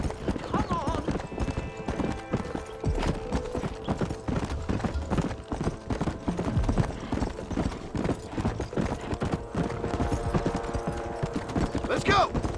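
Horse hooves clip-clop at a steady gallop in the Western video game Red Dead Redemption, a continuous rhythmic pounding under game music, with characters shouting over it.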